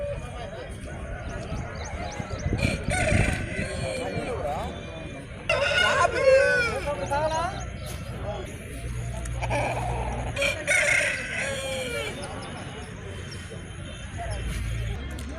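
Roosters crow and chickens cluck at a busy Nallapadu poultry market, several birds calling near and loud amid crowd chatter and someone talking.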